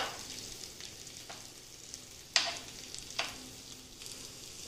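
Mutton keema kebabs and potatoes sizzle steadily in a hot pan, with two sharp scraping clicks as they are turned over; no one speaks.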